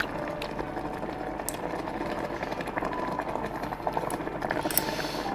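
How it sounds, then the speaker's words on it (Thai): A pot of water boils hard for instant noodles, a dense, continuous roiling bubble heard close up and steady throughout. "มันเดือดแรงไปหม้อนี่ หม้อนี้เดือดแรงเลยนะเพื่อนเนี่ย"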